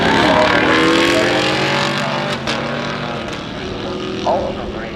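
A Chevrolet Camaro SS with a small-block LS engine launches at a drag strip, its engine roaring loud and close, holding a sustained high-revving drone that shifts in pitch as it pulls away.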